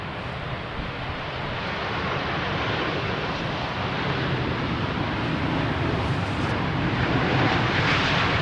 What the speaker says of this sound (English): As this Dreamliner from American touches down.